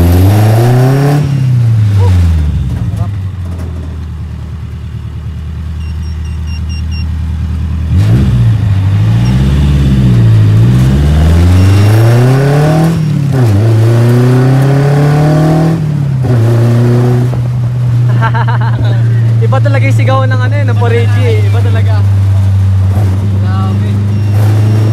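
Modified owner-type jeep from the Philippines with a stock muffler, its engine revving loudly in repeated rising and falling surges before settling into a steady drone, close by, with people talking over it.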